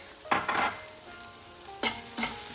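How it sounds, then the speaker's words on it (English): Salt, turmeric, red chili powder and cumin fry for aloo gobi, with four scraping stirs in two pairs over a low continuous sizzle, close by and with no talking. "Let's fry this a little bit"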